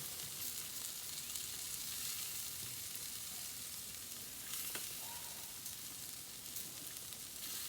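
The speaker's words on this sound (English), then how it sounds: "So let's baste our burgers." Burgers sizzle and fry steadily on a grill while being basted with barbecue sauce, a continuous close hiss with faint scraping and a soft tap partway through, no voices.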